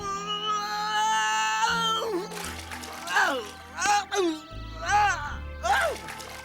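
Several short, rising-and-falling cat meows repeat in a rhythmic series, loud and close, following an earlier stretch of strained, squealing vocal sound.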